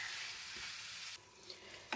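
Vegetables seasoned with sugar, coriander powder and cumin powder being stirred in a hot pan, a steady close sizzle with scraping stirs, quieter in the second half, with a brief clatter near the end.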